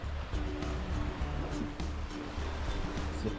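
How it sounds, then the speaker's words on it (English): Pacific Ocean surf at Waikiki, Hawaii, rolling in as a steady, broad wash of breaking waves at moderate distance, with no voices over it. "Pacific Ocean"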